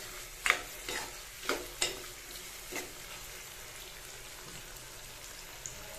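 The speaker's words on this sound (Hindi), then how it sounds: "तो ये हमारी फ्राई हो चुकी है। इसको हाई फ्लेम पे करेंगे।" Food frying on high flame in a pan, with a soft continuous sizzle and a few sharp stirring scrapes and spatters in the first few seconds, fairly quiet and close.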